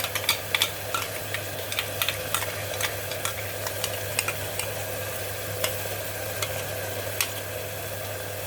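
Coriander powder, fennel powder, asafoetida, Kashmiri red chilli and turmeric sizzling in hot oil for a jackfruit curry, a steady soft frying hiss broken by scattered small crackles and pops.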